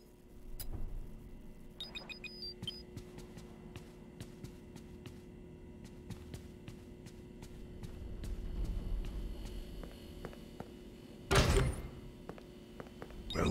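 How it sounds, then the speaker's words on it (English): A door in the horror video game Five Nights at Freddy's: Security Breach opens after a button press: scattered mechanical clicks and thunks over a low hum, then a loud sliding rush near the end. "There is a button on the wall that will open the door to the back room."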